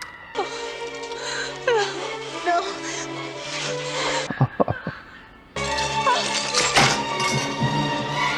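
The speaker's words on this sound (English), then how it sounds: "That's not easy glass to break." Thick glass being smashed in the 1986 film The Fly: a cluster of sharp crashing and thudding impacts breaks in midway through loud, sustained orchestral music.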